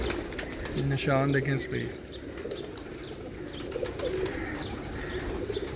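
Slate pigeons give a short run of soft, throaty coos close by, followed by faint chirps, as someone talks over them.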